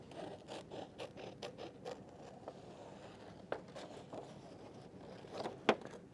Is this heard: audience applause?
no